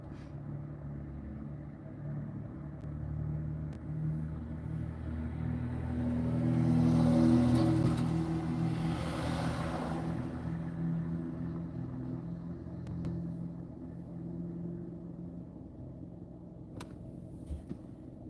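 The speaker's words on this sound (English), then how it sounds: "Okay, the car just pulled in" A car engine rumbles as the vehicle pulls in during a surveillance stakeout, its low drone swelling to a peak midway and then easing back to a steady murmur.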